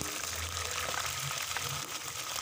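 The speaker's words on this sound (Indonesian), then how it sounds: "Untuk selanjutnya kita goreng ati ampelanya." Chicken liver and gizzard frying in hot oil in a home kitchen, a steady soft sizzle running throughout at low level with a faint low rumble beneath.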